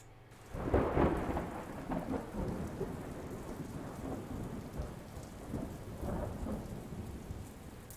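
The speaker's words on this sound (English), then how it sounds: "Ambient storm from inside garage with door open." Steady rain and rumbling thunder of a storm heard from inside a garage with its door open, with a broad wash of downpour and rolling thunder swells rising early and again later.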